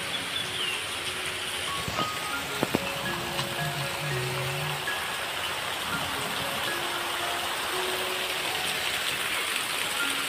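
Heavy monsoon rain falls steadily in Konkan, a dense continuous hiss of downpour with a few faint bird calls and brief knocks over the wash.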